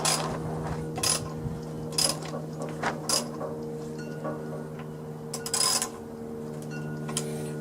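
A wrench loosens tight bolts on a Sears LT1036 lawn tractor, giving short bursts of metallic ratcheting clicks separated by pauses over a steady low mechanical hum.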